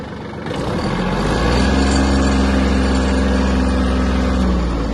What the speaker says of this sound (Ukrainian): З такою мінімальною швидкістю трактор може рухатись.